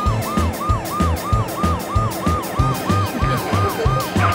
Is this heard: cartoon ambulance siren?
yes